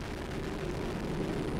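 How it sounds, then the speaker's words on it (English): A SpaceX Falcon 9 rocket ignites and lifts off, a dense, even broadband roar that holds at a constant loudness for under two seconds. "Ignition sequence start and liftoff of the SpaceX Falcon 9 rocket"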